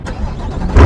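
A Chevrolet Corvette C8 fitted with an AWE exhaust fires up about four feet away, a low rumble that swells into a loud, deep burst of engine noise in the final moment.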